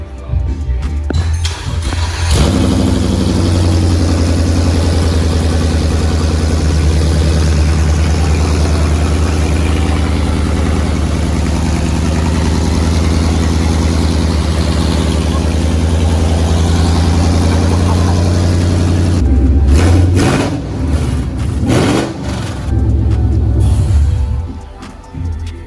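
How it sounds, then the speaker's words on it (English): A car with a newly fitted long-tube exhaust idles loudly and continuously up close, a deep steady drone with brief blips and shifts near the start and toward the end. "So we just heard the first start with the long tube."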